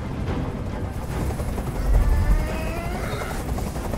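A helicopter hovers in the video game Detroit: Become Human during a hostage scene, its steady thudding rotor chop loud and continuous, swelling slightly midway, with no talk over it.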